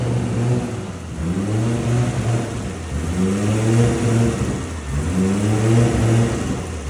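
A deep, throaty Nissan Skyline R32 engine with oversized throttle bodies runs loudly and steadily, rising in repeated revs with a lumpy, rumbling idle between them, no voices.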